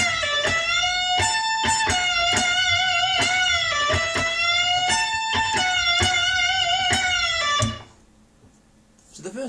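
Electric guitar playing a section of a song's solo, a run of bright, sustained, bent notes in steady rhythmic phrases for nearly eight seconds, then stopping abruptly into near silence.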